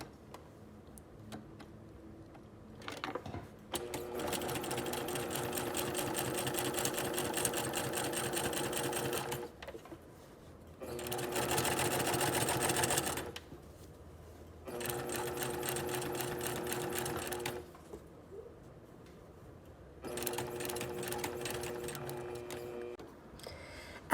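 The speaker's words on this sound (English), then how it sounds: "Now we'll be ready to understitch at the sewing machine" Sewing machine understitching along a facing seam, running in steady mechanical bursts of several seconds separated by short pauses, close and moderately quiet with no talking.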